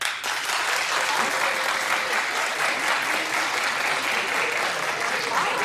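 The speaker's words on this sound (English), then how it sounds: "Clap if you're participating in Galentine's Day." A talk-show studio audience breaks into dense, sustained clapping, a loud, even roar of many hands with no pause.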